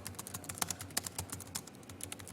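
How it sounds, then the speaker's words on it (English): Computer keyboard typing, a brisk uneven run of light nearby key clicks, heard alone without voices. "I'm having a hard time typing today"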